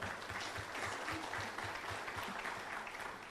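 An audience at a motivational talk on success gives a round of applause, a steady, fairly quiet wash of clapping with a faint rhythmic low thump running beneath it.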